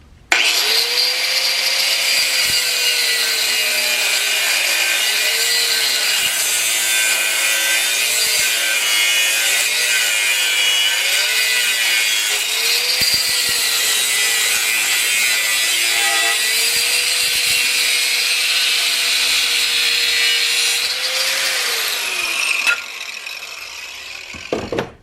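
Steel angle being sawn through in half, a loud, steady, continuous cutting drone with a wavering pitch that runs for over twenty seconds before stopping, no voices.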